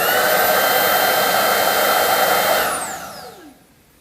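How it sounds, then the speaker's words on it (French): A Trouver Power 11 cordless vacuum whirs at a loud, steady high pitch, then powers down, its tone sliding lower as it winds to a stop. "on va mettre en route l'aspirateur"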